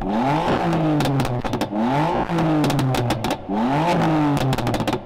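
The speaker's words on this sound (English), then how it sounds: "Can we have a listen to the old M4, please?" An older-generation BMW M4's engine revs hard in repeated rising sweeps, with crackling pops and bangs from the exhaust between revs, loud and close.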